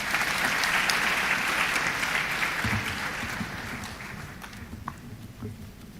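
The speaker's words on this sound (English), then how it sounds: "A round of applause." Audience applause fills a graduation ceremony hall, a dense sustained clapping that starts full and loud, then gradually thins and fades toward scattered claps.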